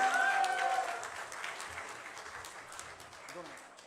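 Applause from an audience at a get-together greets a nominated media secretary candidate, a broad steady wash of clapping that starts fairly strong and slowly fades over a few seconds.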